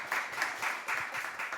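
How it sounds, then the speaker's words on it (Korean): A church congregation at a Sunday talk show applauds, brief, soft and fairly even clapping from the room with a hint of voices underneath. "너무 박수 한번 쳐주세요."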